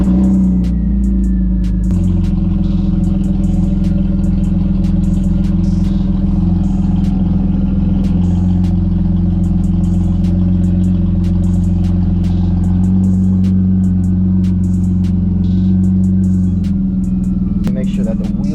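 BMW E36 328i engine idling steadily after start-up, a continuous low rumble with a faint hum holding throughout, heard up close inside the car.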